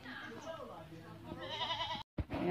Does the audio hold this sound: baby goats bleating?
yes